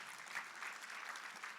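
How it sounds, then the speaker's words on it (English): Applause from an audience at a provincial G20 education indaba in Mpumalanga, a steady, faint patter of clapping heard from a distance, with no voices. "let's give them a very big round of applause"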